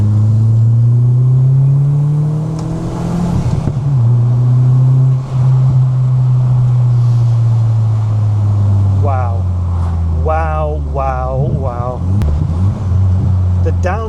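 A Mk2 Volkswagen Golf GTI with a swapped-in Audi S3 engine drones loudly at steady revs, dips briefly during a gear change, then rises through several sharp rev climbs as it accelerates, with a voice talking over the engine.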